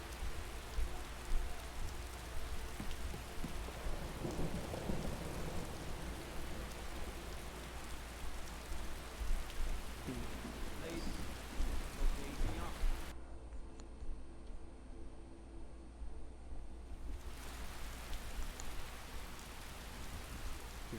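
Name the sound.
rain falling in a video game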